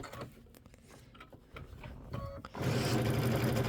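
A sewing machine stitching binding onto a Kimberbell quilted table topper, faint scattered clicks at first, then a steady close motor whir for the last second or so.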